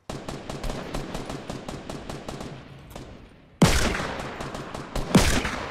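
Rapid bursts of M6 rifle fire in a multiplayer shooter game, a run of evenly spaced shots that trails off, then two loud, sharp volleys close up, with no talk over them.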